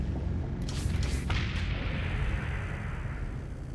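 Special flare launchers firing in the space game Starsector, a few quick bright bursts over a steady low rumble of engines and battle noise, moderately loud.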